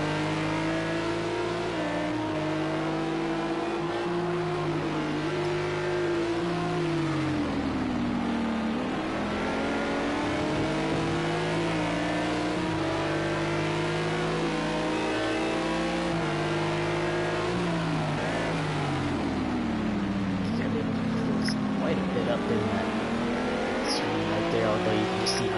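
McLaren GT3 race car engines in a racing video game at Imola, revving hard and rising through the gears with sustained loud whining tones and shifts, other cars audible beneath.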